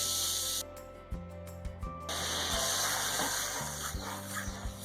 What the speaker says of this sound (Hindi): और इसमें डालेंगे आधा कप पानी।